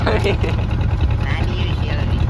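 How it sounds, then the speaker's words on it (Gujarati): A fishing boat's engine drones steadily while the boat moves out at sea, a loud continuous low rumble with wind and water noise throughout. "અત્યારે આપણી બોટ હાલી જાય છે"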